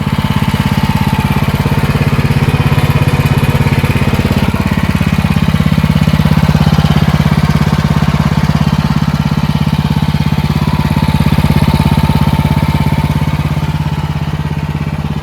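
Troy-Bilt Storm 3090 30-inch dual-stage snowblower engine idling close by, a loud, steady, continuous rumbling drone with no talk over it.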